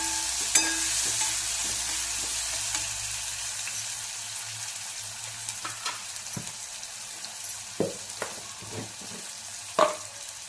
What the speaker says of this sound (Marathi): आता आपलं हे सगळं परतून झालंय